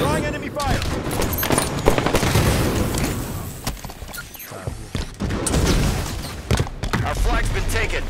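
Dense gunfire and explosions in the video game Halo 5, loud rapid bursts and booms through a busy battle mix, with voices calling out over it.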